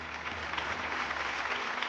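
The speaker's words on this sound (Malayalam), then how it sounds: "ഈ കുട്ടികൾക്ക് നല്ലൊരു കയ്യടി കൊടുക്കാം അല്ലേ നമുക്ക്?" A studio audience on a Malayalam TV game show claps for a children's dance, producing a dense, steady wash of applause that holds at an even level throughout.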